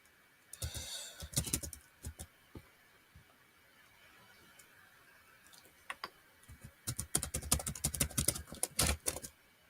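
Computer keyboard typing while entering account data on a web platform: two bursts of rapid, close key clicks separated by a quieter pause, with no talking.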